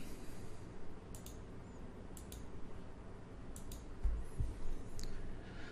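Computer mouse clicks during a software installation land as a few sharp, faint taps spread across the clip, some in quick pairs, over a quiet background hum.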